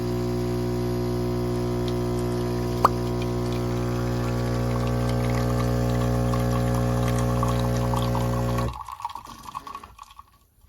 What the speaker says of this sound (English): we're gonna do a couple of these to get the machine primed up and ready to go so it makes proper espresso